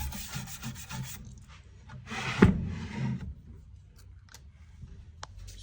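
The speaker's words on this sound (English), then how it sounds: "Because there will be a lot of dust from the sanding." Wood sanding by hand, heard as a dry rubbing rasp that comes in a few strokes. The loudest scrape falls near the middle, and quieter scratchy textures trail off afterward, with no talking.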